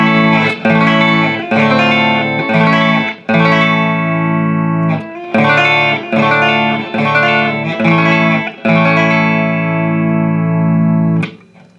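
An electric guitar runs through a Dynamo Self Esteem EQ boost pedal, playing loud sustained chords and notes in short phrases with brief gaps between them, up close and alone.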